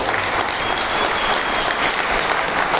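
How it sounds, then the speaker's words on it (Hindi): Loud, sustained applause from a crowd at a company office event in Mumbai, a steady dense clapping that fills the whole moment without letting up. "तो एक बार जोरदार ताली"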